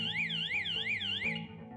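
A button-triggered audiovisual alarm signaler wails with a rising and falling electronic tone that repeats several times, steady and close, then cuts off near the end.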